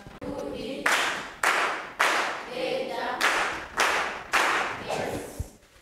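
Students in a secondary school classroom clap in unison, a sequence of about six sharp, loud group claps in a regular rhythm, each burst ending abruptly before the next.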